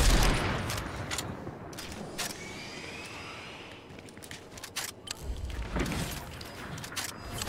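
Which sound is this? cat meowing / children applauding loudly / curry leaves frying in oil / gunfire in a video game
gunfire in a video game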